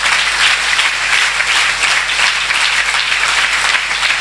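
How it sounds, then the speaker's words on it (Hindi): A congregation at a church service claps steadily and loudly, a dense, even wash of many hands with no break. "आप यहाँ तालियां बजा रहे हैं, ये तालियां प्रभु के लिए है"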